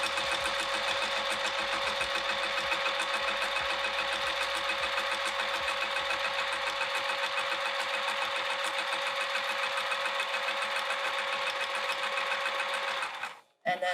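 A sewing machine runs a long basting stitch while sewing a bag with piping. Its fast, even mechanical whir holds steady and loud for about thirteen seconds, then stops abruptly with a brief clunk at the end.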